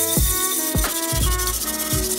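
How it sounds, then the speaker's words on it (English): An abrasive pad scrubs rust and carbon buildup off a soapy carbon steel skillet, giving close, loud rubbing strokes with a few sharp scraping sweeps. "What I'm doing here is removing any rust and carbon buildup."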